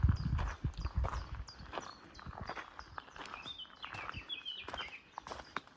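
Birds chirp and trill in short, scattered calls against a quiet outdoor background, with some soft footstep-like thuds nearby.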